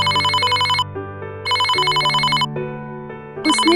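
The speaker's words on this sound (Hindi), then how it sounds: "तभी अचानक रमेश का फोन बजता" A cartoon telephone rings in loud electronic trilling bursts, three rings in quick succession, with a musical underscore beneath.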